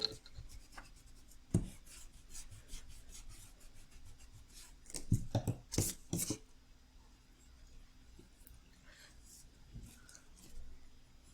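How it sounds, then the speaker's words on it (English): A pencil eraser rubbing out sketch marks on paper gives short, close, scratchy strokes: a lone swipe early on, then a denser cluster of quick back-and-forth scrubbing midway, with quiet room tone between. "I'm going to erase some of these pencil marks."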